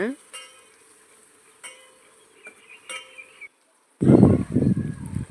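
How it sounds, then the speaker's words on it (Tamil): Dried red chillies and crushed garlic hit hot oil in a pan with a few metallic taps and clinks. A soft sizzle follows, then a louder burst of frying near the end. "நாலு காஞ்ச மிளகா அதை கிள்ளி போட்டுக்கோங்க அப்புறம் தட்டி வச்சுருந்த பூண்டு இது எல்லாத்தையும் போட்டு நல்லா வதக்குங்க"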